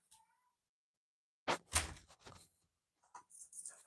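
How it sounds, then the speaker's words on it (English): A studio door is shut: a quiet thud with a brief rattle after a near-silent start, followed by faint shuffling. "I'm going to shut this door."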